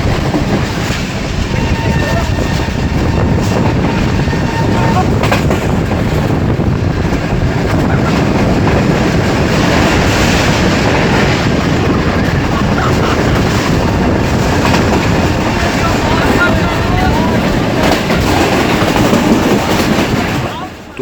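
Sir Syed Express passenger train running at roughly 105–110 speed past Tando Adam railway station: a loud, continuous rushing rumble with rattling wheel and carriage noise, heard from on board and steady throughout.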